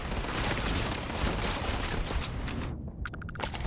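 Sustained loud gunfire from a weapon in the space game Starfield, dense overlapping shots and impacts filling the whole stretch, with a brief dip before firing resumes near the end.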